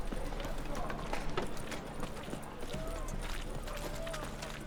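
Rhythmic hoofbeats of a horse walking in the video game The Witcher 3: Wild Hunt, steady clip-clop under a busy, noisy background with scattered other sounds.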